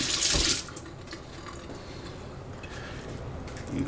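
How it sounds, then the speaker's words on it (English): Hot water from a sink tap splashes over a dab pen being cleaned with dish detergent, with a brief louder gush at the start, then a quieter trickle and a faint rising rush at the end. "Run it under hot water."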